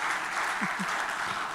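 A short patch of even applause from a post-budget economic forum audience, steady clapping with a couple of low thumps in the middle.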